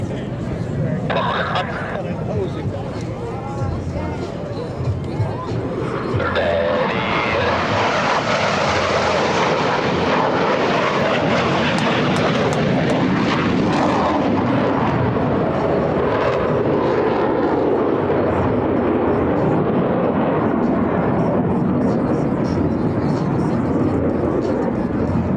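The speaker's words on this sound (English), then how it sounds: "Aircraft's canopy to canopy as they perform the opposing knife edge pass" US Navy Blue Angels jets roar past in an opposing knife edge pass at an air show at NAS Patuxent River, a loud rising and sustained jet roar that swells and lingers, with an announcer talking over it.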